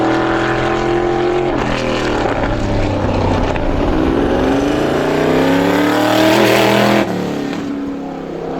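An ISMA supermodified race car screams past during a time trial lap at Star Speedway, a loud high-revving engine with a rising and falling pitch sweep. A second engine note briefly overlaps before the sound drops away.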